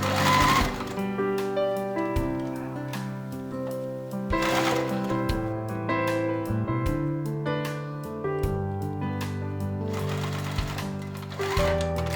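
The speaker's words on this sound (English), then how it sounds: "sewing in the same seam" A sewing machine stitches a seam on a home-made tote bag, its rapid mechanical whir running in steady bursts with short pauses and clicks between runs, close and clear.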